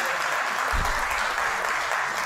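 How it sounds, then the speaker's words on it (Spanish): An audience applauds at a press conference presenting a Marbella gastronomy event, a dense, steady clapping that fills the room evenly and loudly from start to finish. "Si le vamos aplaudiendo, igual les animamos un poquito y van subiendo."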